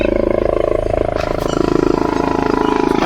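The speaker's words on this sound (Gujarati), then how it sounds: "આ હેલિકોપ્ટર આવી ગયું છે" A helicopter carrying a state chief minister arrives to land near a village, heard as a loud, steady, rapid thumping rotor beat with engine roar throughout.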